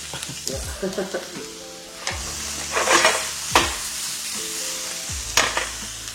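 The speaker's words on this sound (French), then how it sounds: "un petit peu d'huile d'olive. On met la moitié de nos poivrons" Bell peppers sizzle and fry in olive oil in a hot pan, with a steady crackle and occasional stirring scrapes, close and fairly loud.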